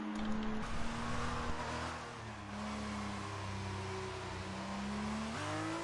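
An F2 race car in a racing game rolls slowly into the pits at Hungary, its engine a steady low droning hum with a slight pitch change near the end, close and continuous.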